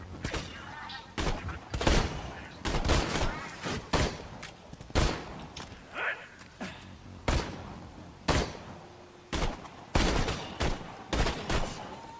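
Enemy sniper fire in Borderlands 2 co-op combat: sharp broadband shots crack out repeatedly and fairly loud at irregular intervals, mixed with thuds and scattered game effects.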